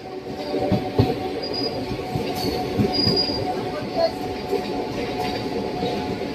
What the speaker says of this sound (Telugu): గూడ్స్ ట్రైన్ ప్యారలల్ అవుతుంది.